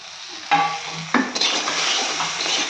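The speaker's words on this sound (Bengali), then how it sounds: "এবার কড়াইশুটিগুলো এবার তেলে সব ভেজে নিচ্ছি" Green peas frying in hot oil in a pan, with a bright sizzle that flares as a utensil stirs and scrapes twice, followed by steady crackling.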